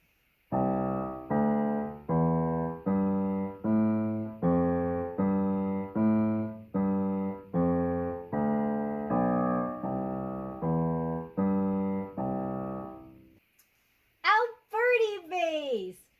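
A piano plays a jazz walking bass line of evenly spaced, detached notes in a steady beat, followed by a brief spoken voice at the end.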